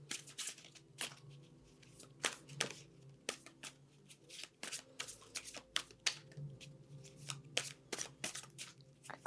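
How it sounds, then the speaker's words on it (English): Tarot cards being shuffled by hand in a series of crisp riffling bursts and soft slaps, close and clear, with quiet pauses between the shuffles and no speech. "So I'm going to start by just giving this a shuffle"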